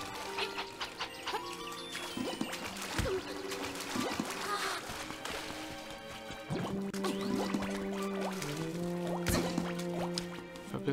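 Link swims through water in the video game The Legend of Zelda: Link's Awakening, with repeated dripping, splashing game sound effects over chiptune music, steady and moderately loud.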